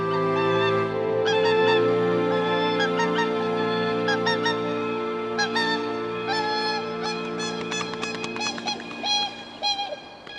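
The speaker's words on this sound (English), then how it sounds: "Hooper swans have arrived." Wild whooper swans in a frozen Scandinavian breeding ground give loud, clear honking calls, several birds trumpeting in overlapping bursts that grow more rapid and layered toward the end.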